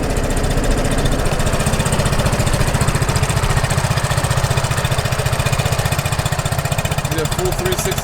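A 2015 Vespa Primavera 150 scooter engine runs close and loud, a steady rapid putter that holds throughout.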